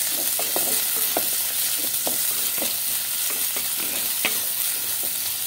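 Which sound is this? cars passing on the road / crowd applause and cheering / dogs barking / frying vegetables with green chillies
frying vegetables with green chillies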